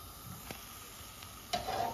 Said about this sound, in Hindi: अब हम इसी तरह सारे फ्राई कर लेंगे